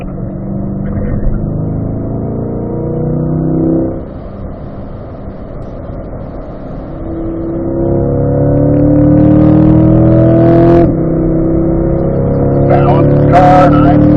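A car accelerating out of a corner on a track, engine note rising steadily from a drone into a louder, climbing roar, heard from inside the cabin while an instructor talks over it.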